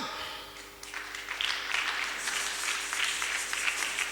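A gathering at a Sunday church service breaks into applause: moderately faint, dense clapping that swells after the first second and holds steady, heard from a distance.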